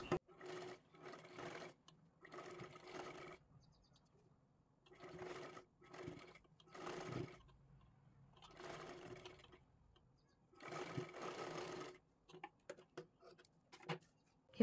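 A sewing machine stitches lining fabric close to the edge in repeated short bursts of fast whirring, separated by quiet pauses, and faint overall.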